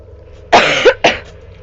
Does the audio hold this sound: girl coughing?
yes